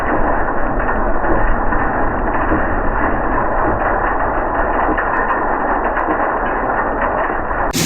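A rebuilt Clipper No. 2B Special seed cleaner runs while cleaning soybeans, giving a loud, steady mechanical rumble and rattle that stays constant throughout, close up.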